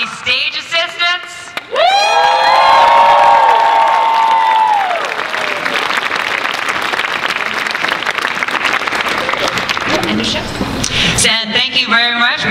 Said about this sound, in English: One more applause for our lovely stage assistants.